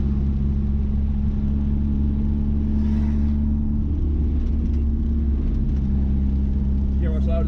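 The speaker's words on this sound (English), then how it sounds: "Hear how much louder that exhaust is?" Low, steady rumble from the exhaust of a 1986–1993 Mazda B Series truck fitted with Holley Sniper EFI, droning continuously and close throughout while driving, with faint sounds on top toward the end.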